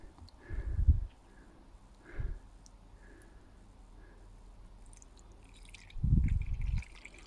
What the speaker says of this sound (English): So it's just a matter of pouring this off slowly.